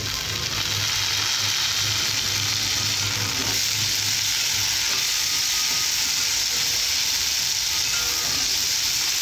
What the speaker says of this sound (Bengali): আলুটা কিছুক্ষণ ভেজে নেওয়ার পর পটলগুলো ভেজে নেব।